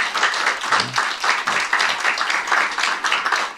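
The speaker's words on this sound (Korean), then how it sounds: "우리 하나님께 한번 감사의 박수 올려드리면 어떨까요" A church congregation applauds together during a special anniversary service, steady dense clapping from many hands filling the room with no voices over it.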